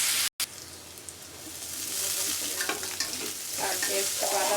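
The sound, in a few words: garlic paste frying in oil for basella greens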